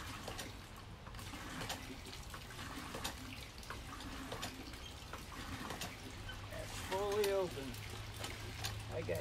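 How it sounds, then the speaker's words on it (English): Water runs steadily through a well fire pump fed from underground, giving a continuous rushing flow with faint background noise and a brief tonal whine near the end. "I got continuous water going through the pump from underneath the earth into the ground"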